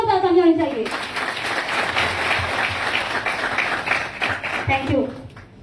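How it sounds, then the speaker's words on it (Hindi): An audience at an anchored stage event breaks into loud, sustained applause for five directors, dense clapping filling the room for several seconds before tapering, with a voice over the start and end. "तो हम चाहेंगे एक बार हमारे 5 महान डायरेक्टर साहब के लिए भी जोरदार ताली जानी चाहिए।"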